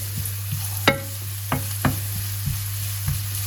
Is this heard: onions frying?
yes